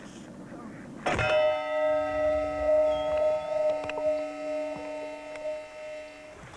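A bell struck once for an underwater sound experiment on a lake, a single clear strike whose ringing tone lingers and slowly decays.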